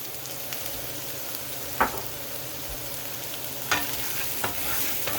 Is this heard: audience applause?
no